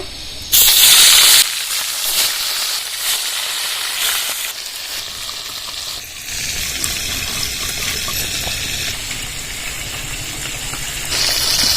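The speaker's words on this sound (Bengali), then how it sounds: "মাছগুলো এবার তেলে ছেড়ে দেবো" Pieces of bhola fish dropped into hot oil for mustard curry, a loud burst of hissing at the start settling into a steady, close frying sizzle that continues without talk.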